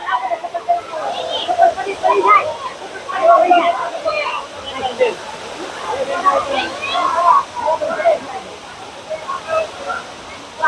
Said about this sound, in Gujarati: હવે તમને નીચે થઈને બતાવું થોડો ધોધ.